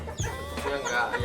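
Serama chickens on an Indonesian farm cluck in short, close bursts, several overlapping calls in quick succession.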